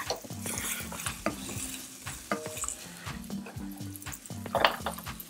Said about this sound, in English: Give it a very light saute. With the onions.